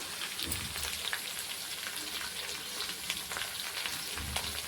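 Curry leaves and mint sizzle and crackle in hot oil in a pan for palak egg rice, a dense, continuous frying hiss close by with no talk.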